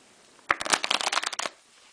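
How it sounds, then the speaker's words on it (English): A deck of playing cards being riffle shuffled: a quick burst of rapid crisp flutters and snaps lasting about a second, close up, between short quiet gaps. "a good thing to do would be to actually riffle shuffle these cards"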